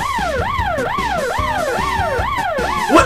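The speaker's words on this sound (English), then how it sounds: "You put the sirens on for that?" A wailing emergency siren in a video game rises and falls in rapid repeating sweeps, loud and close, with engine rumble underneath.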